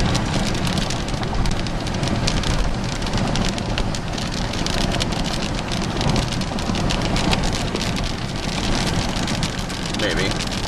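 Heavy rain in a bad storm pours down steadily and densely, a loud, continuous hiss of drops drumming on surfaces that fills the whole stretch without letup.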